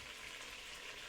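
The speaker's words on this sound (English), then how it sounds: "over the sizzling of the chicken" Chicken pieces sizzle in a hot pan while frying for coq au vin, a dense, steady crackling hiss that sounds close and continuous with no pauses.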